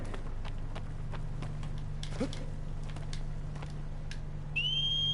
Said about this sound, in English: And when you're super far away, or whenever you're facing the Colossus, he whistles